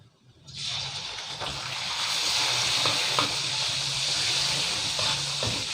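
Pork and garlic stir-frying in hot oil in a wok, a steady close sizzle and hiss with occasional clicks and scrapes of stirring, no voices.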